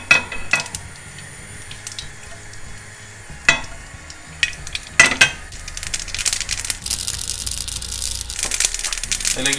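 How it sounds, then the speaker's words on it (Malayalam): Mustard seeds splutter in hot oil in a pan as a baked bean curry is started. Scattered clicks and taps give way to a dense, loud, continuous crackling sizzle over the last few seconds. "നമുക്ക് ബേക്ക് ബീൻസ് കറിക്കുള്ള പാനിലേക്ക് ആദ്യം എണ്ണ ചൂടായി നമുക്ക് കടുകിട്ട് കൊടുക്കാം."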